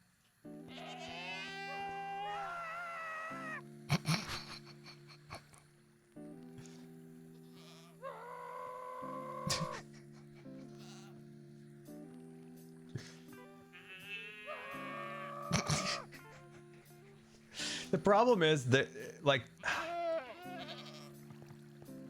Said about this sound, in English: That's the first time I've heard one of those stupid goats in a long time.